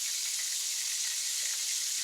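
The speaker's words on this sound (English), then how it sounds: "just continue to melt and sizzle and all that" Hamburger steak patties frying in a pan give off a steady, bright sizzle with fine crackling and popping, close and constant throughout with no voices.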